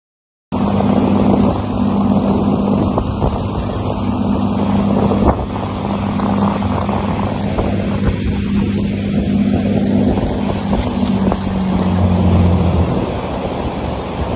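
Twin engines of a Sirena 58 Coupe yacht idle after starting at a marina, a steady low drone that holds near and even for the whole stretch, with wind noise over the microphone.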